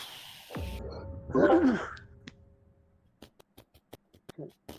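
A single forceful sneeze follows a sharp intake of breath, then gives way to soft clicking keys and a brief voice murmur.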